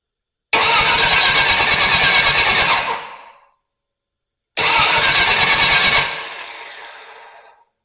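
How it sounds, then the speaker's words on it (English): Starter cranking a Pontiac 326 V8 engine in a Tempest restomod: two loud, close cranking bursts of about two and a half seconds each, separated by a pause, neither catching. "I'm gonna give this a crank."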